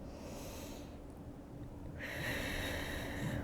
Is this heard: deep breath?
yes